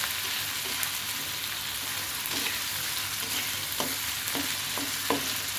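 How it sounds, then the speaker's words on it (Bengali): Onion and garlic frying in a pan with a cumin tempering, giving a steady close sizzle with a few light stirring scrapes near the end and no voices. "পেঁয়াজ রসুন এগুলো ভেজে নিচ্ছি সম্বারা জিরা একটু ফোড়ন দিয়ে নিয়েছি"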